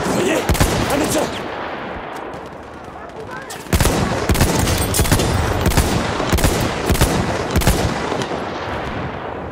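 Sustained automatic machine gun fire in the video game Battlefield 1, dense rapid bursts with a brief lull near four seconds before firing resumes loudly, mixed with other battlefield gunfire and faint voices underneath.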